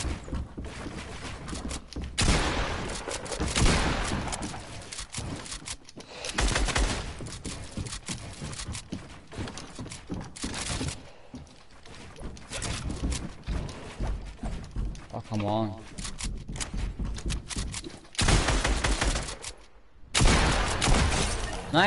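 Video game gunfire rattles in sustained, dense bursts with brief pauses, loud and close, mixed with sharp impact cracks and mechanical clatter throughout.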